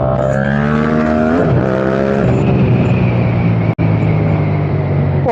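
A Yamaha MT-07 motorcycle moves through traffic, its engine droning loud and close with rising and falling revs as it shifts gears, broken by one sharp click midway.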